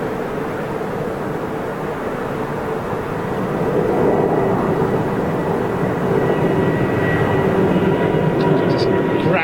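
A Boeing 747 departs London Heathrow Airport with a steady, loud engine roar that builds midway and holds, while a commentator talks over it.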